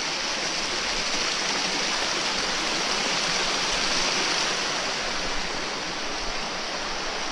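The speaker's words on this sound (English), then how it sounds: "So here's the water, runs through" Water rushes continuously through a stream in a broad, even hiss, close and loud throughout with no talk over it.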